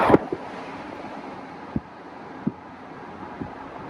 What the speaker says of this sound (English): It's breezy today.